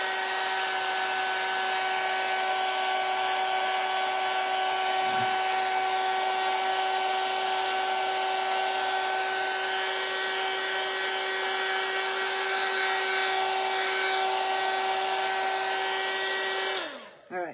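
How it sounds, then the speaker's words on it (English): An electric heat embossing tool blows steadily on a scrapbook journal page, a loud continuous whirring hiss with a fixed whine that runs for about seventeen seconds before cutting off sharply, no talk. "Let me actually take the heat tool to it for just a second"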